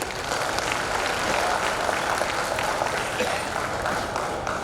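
An audience applauds at a building inauguration ceremony for a ten-storey building, a dense, steady wash of many hands clapping throughout.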